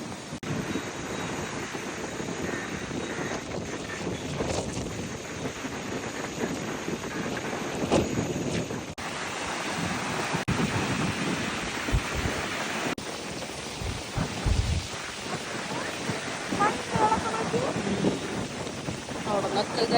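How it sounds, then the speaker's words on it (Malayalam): Strong wind and heavy surf crashing on Munambam beach under a rough sea: a loud, continuous roar of gusting wind and breaking waves, with no pauses, throughout. "ഭയങ്കരമായ തിരകൾ, ഭയങ്കര കാറ്റാണ്."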